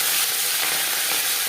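Pieces of rohu fish fry in hot refined oil, producing a loud, dense, continuous sizzle heard up close for a brief moment.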